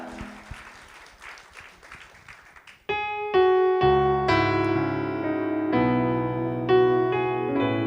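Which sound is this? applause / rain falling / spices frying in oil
applause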